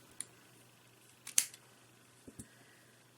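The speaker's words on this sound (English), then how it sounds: "So I'll just trim that." Scissors snip fabric for slow-stitch embellishment in a few sharp, close clicks, scattered across an otherwise quiet room with a faint steady hum.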